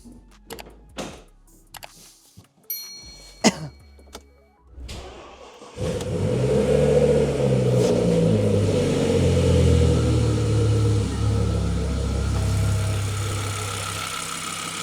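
An Audi RS6 engine, started with a small jump pack, catches after a few clunks and handling knocks, then roars into a loud, close idle with revs that rise and settle.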